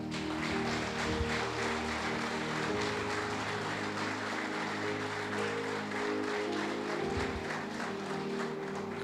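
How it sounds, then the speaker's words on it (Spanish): A church congregation gives sustained applause during a Sunday service, a steady, dense wash of clapping from many hands throughout. "Dale un aplauso a Jesús."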